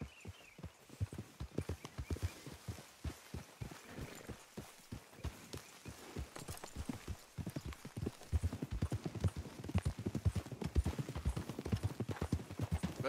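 Horse hooves clip-clop steadily while riding in Red Dead Redemption 2, a continuous rhythmic trot that grows denser and louder toward the end, with a faint whinny and no talk over it.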